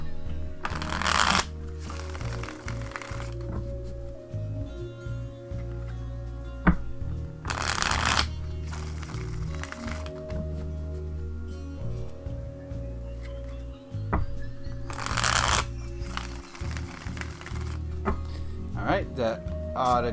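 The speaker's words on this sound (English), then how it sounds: "just a couple more shuffles" A deck of tarot cards being shuffled in several separate bursts of riffling and sliding, close and fairly quiet, with pauses of handling between them.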